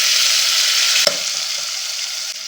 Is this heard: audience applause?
no